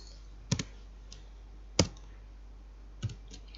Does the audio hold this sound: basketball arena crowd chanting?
no